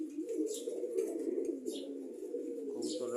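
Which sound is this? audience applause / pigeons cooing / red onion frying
pigeons cooing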